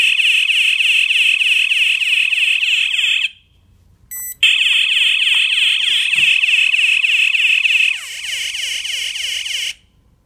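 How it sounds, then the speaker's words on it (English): A loud, shrill electronic door alarm buzzer pulses continuously, cuts out briefly, then resumes and drops in volume before stopping. "So there you see, the alarm sounds."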